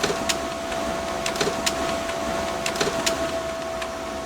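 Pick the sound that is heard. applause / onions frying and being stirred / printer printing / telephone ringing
printer printing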